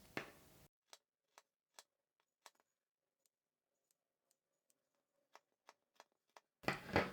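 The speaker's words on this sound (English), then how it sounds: "take your scissors and we're going to snip close to the seam, just around those curves." Scissors snip fabric close to the stitched seam of a sewn eye mask, giving about a dozen crisp, close clicks spaced irregularly in quiet, with louder rustling at the start and end.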